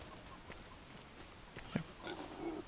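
Pigs in Farming Simulator 25 give faint, scattered grunts and oinks, a few short snorts over a quiet farmyard background.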